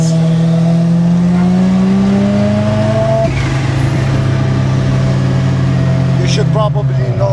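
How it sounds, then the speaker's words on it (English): Mazda RX-7 cars driving on a mountain touge pass, a rotary engine revving hard and close with rising and falling pitch through gear changes, with people talking over it. "Hitting the Touge in the RX-7s."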